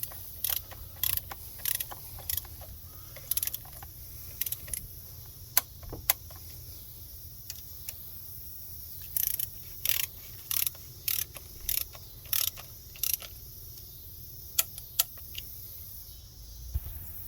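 A torque wrench ratchets as it tightens valve cover bolts on a 2007-2013 Nissan Altima, short clusters of sharp metallic clicks coming in separate bursts with pauses between them, close and quiet against a low background hum.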